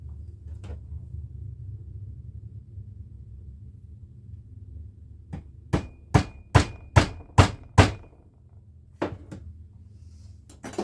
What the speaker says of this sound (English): So I just hammer it in a little bit.